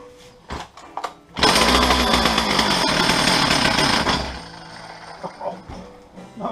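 A Stihl 034 chainsaw that is being revived after disuse is pulled and sputters a few times, then catches and roars loudly and raggedly for about three seconds before dying back to idle clatter and pops.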